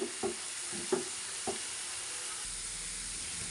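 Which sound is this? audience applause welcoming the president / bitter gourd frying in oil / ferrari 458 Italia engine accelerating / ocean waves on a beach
bitter gourd frying in oil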